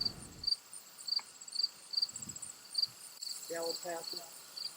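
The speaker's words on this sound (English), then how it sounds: "Sounds like we have a cricket nest next to the camera." Crickets chirp steadily in a regular rhythm close to the microphone beside a croquet lawn, with brief quiet talk and a few soft thuds in between.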